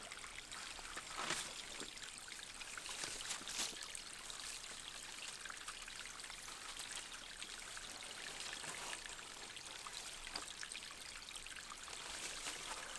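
Water streams and trickles steadily through a large drain pipe clogged with debris at a flood-damaged property, a continuous close rushing flow with small splashes.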